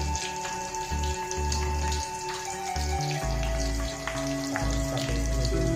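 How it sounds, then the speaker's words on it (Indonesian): Sliced tempeh frying in hot oil in a home kitchen pan gives a steady, dense crackle and sizzle, like rain on a surface, close and continuous, with no talking. "Mulai goreng ini udah panas minyaknya soalnya."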